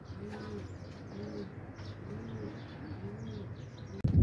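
Pigeons in Quetta, Pakistan, coo in a repeating soft rhythm, several low calls close by, ending with a short louder knock.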